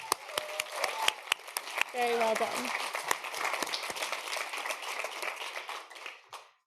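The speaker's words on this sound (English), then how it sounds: "Can we get another round of applause for all of the young people in this audience?" Audience applause at a peace event honoring young people, with scattered clapping that thickens into a loud, sustained ovation before tapering off, while a voice speaks briefly over it.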